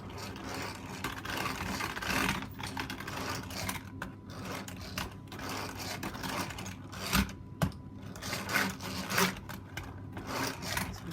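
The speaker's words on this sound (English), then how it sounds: "Just whisking it like this." An old hand whisk works through lemon drizzle cake batter with a continuous, close mechanical whirring and scraping that pulses unevenly as the handle turns.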